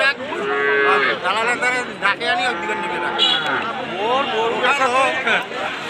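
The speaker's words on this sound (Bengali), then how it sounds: "এখানে সামনে যা আছে এগুলি সব আসলে দেশি জাতের গাই গরু গাভী" Local-breed cows moo at the busy Taraganj cattle market in Rangpur, several long, loud calls overlapping close by amid a crowd's chatter and someone talking.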